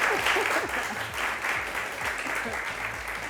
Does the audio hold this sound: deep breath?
no